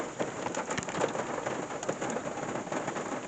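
Steady rain pours down during Tropical Storm Elsa in a small town, a dense continuous patter of drops on surfaces with scattered louder splashes, no voices.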